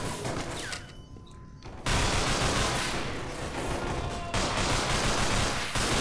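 A weapon fires repeatedly in the video game Underhell, a loud sustained volley of gunshots after a brief quieter lull, with a short dip before the firing resumes.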